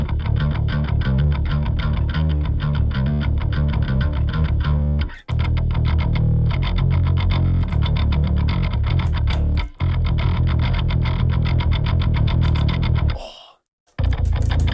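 Heavily distorted bass guitar played through effects for a metal cover, dense and loud with sustained low notes and two brief stops, no talking.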